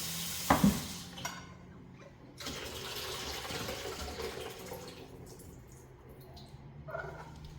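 Water rinsing quinoa in a kitchen: a clatter of the pot, then a steady running, swishing pour of water with grains stirred around, fairly quiet and continuous.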